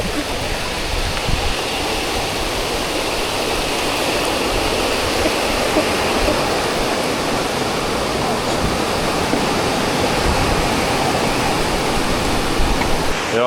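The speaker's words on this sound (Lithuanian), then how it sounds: "Prasidėjo audra truputuką." A storm starting beside a river in a Thai village: a steady, dense roar of rushing wind and rain noise fills the whole stretch, loud and unbroken, with no voices.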